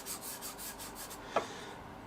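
Desert ironwood burl rubbed back and forth on a self-adhesive sanding disc over a flat glass plate, a close, fairly quiet rhythmic scraping in several even strokes, then a short sharp knock.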